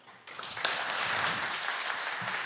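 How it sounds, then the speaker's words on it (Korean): Audience at a panel discussion during a mechanical technology forum breaks into applause, a dense, steady wash of clapping that rises quickly and holds throughout. "패널 토론에 수고해 주신 좌장님과 연사들께 다시 한번 큰 박수 부탁드립니다"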